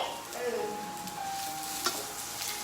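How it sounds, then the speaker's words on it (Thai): Orange mushrooms are stir-fried in a pan with seasoning sauce, giving a constant close sizzle with occasional sharp scrapes and taps of the stirring utensil. "ผัดเมนูง่ายๆเห็ดออรันจิ"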